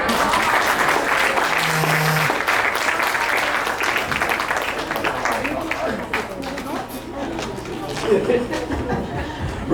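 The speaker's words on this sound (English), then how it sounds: "Round of applause for Sarika and Ari, everybody." Guests at a 60th birthday party applaud together in a steady, dense burst of clapping mixed with chatter and light laughter, lasting throughout.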